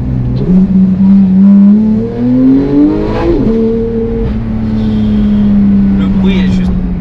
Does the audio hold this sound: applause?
no